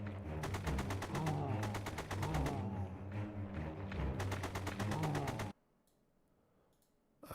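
AK rifle fire in a zombie video game crackles in rapid, steady automatic bursts, loud and close for about five seconds before cutting abruptly to near silence.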